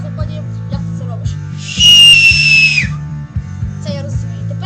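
A loud, piercing whistle made by blowing over the tongue sounds for about a second, sharp and shrill, with low background hum and clicks around it.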